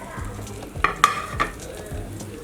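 A simple breakfast cooks in a pan as its second side fries. A soft, steady sizzle is heard up close, with three sharp clinks of a utensil against the pan near the middle.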